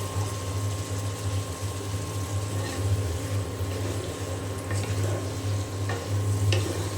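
Potatoes are stir-fried with spice paste in oil in a home kitchen pan: a steady, continuous sizzle with soft stirring scrapes and a low background hum throughout.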